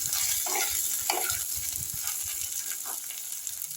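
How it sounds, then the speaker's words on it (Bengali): Eggplant frying in oil in a wok, with a dense, steady sizzle and a few soft scraping stirs, heard up close and continuous. "বেগুনটাকে আমি খুব ভালো করে একটু ভেজে নেব।"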